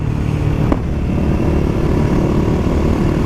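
A Yamaha WR450 supermoto motorcycle engine running steadily while riding, a loud, continuous throaty drone with a brief clatter early on, close up and with no talking.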